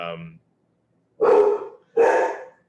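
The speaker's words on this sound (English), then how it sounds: "sorry, my dog" A pet dog barks three times at home during an online webinar, each bark loud and close, with short pauses between and brief talk just before.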